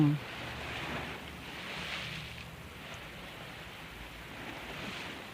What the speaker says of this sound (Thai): ฝั่ง นี้คลื่นแรง